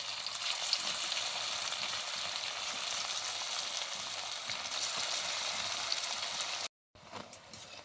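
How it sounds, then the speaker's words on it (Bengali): Semolina sweets frying in hot oil give a steady, dense sizzle that runs unbroken for several seconds, then cuts out briefly before resuming more quietly. "এবারে ওই একইভাবে বাকি মিষ্টিগুলো ভেজে নেব"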